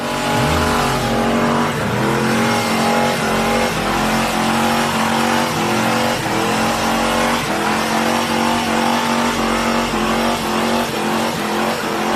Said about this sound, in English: this is one hell of a burnout